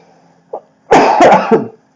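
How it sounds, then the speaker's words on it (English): A short throat catch followed by a loud, harsh cough burst with a couple of quick follow-up hacks, close to the mic. "still have that cough"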